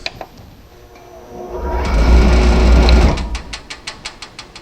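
A motor driven by a VFD spins up into a rising whine and holds it for about a second. It then stops abruptly, leaving a series of regular, fading clicks.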